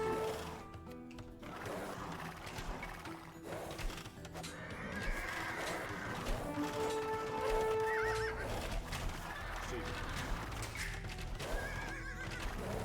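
Horses in the Age of Empires II strategy game neigh and whinny repeatedly over clip-clopping hooves and busy in-game sound effects, steady and fairly loud throughout.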